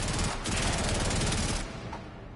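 Dense, continuous gunfire from the sci-fi shooter game Warframe, a loud sustained barrage of rapid shots that thins out slightly near the end, with no voices.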